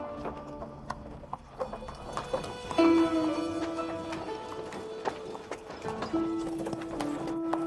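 Horses clip-clop and shuffle nearby, hooves thudding irregularly, with a few whinnies and a steady background hum.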